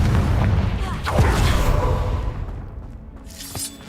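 A Confringo fire spell goes off in Hogwarts Legacy, giving a loud booming blast with a sharp crack and whoosh near the start that rumbles and fades, then a smaller burst near the end.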